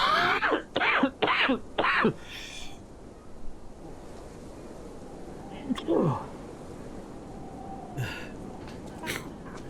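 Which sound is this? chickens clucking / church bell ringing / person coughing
person coughing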